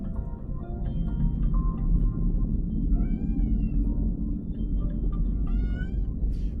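A cat gives two drawn-out meows, the second longer and rising, over a low continuous room rumble.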